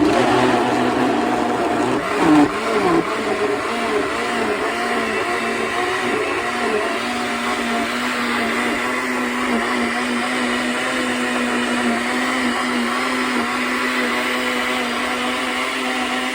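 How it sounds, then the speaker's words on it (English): A blender crushes ice for cantaloupe lemonade, a steady loud whir running the whole time with a brief louder lurch near the start and no talking. "make sure you also have a good hand on the blender because you don't want it to take off on you"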